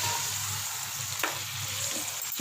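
Chicken frying over a high flame with garlic and ginger paste, a dense close sizzle with a single sharp stirring scrape midway.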